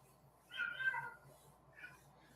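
A fat house cat at night lets out a faint drawn-out meow followed by a shorter second one, against a quiet indoor background.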